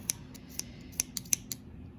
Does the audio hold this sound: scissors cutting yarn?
yes